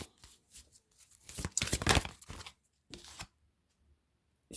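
Tarot cards are shuffled and drawn during a reading, with crisp riffling and snapping card sounds in short bursts separated by silence, close and clear.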